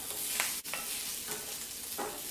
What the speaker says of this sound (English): Sausages are getting close to done. Just trying to dodge all the little bits of oil that are skipping out of the pan.